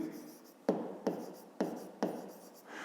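A pen writes in a notebook in four quick, distinct strokes, each starting with a sharp scratch that fades off. The sound is close and clear, with no voices.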